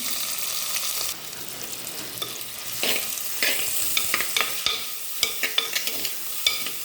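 Shallots, curry leaves and green chillies sizzle in hot coconut oil in a pan, with a continuous frying hiss broken by sharp scraping bursts as the mixture is stirred up close.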